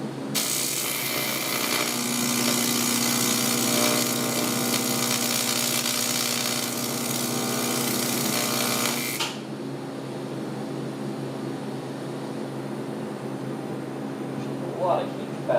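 Tack welding brackets onto a car intercooler for a 1976 Mazda RX-5 Cosmo, a loud, steady buzzing hiss of the welder running close for about nine seconds before cutting off to a quieter room hum.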